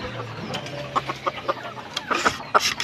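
A white red junglefowl (labuyo) rooster kept as a decoy gives a run of short, sharp clucks and calls at close range, repeated irregularly against a steady low background hum, with no talking.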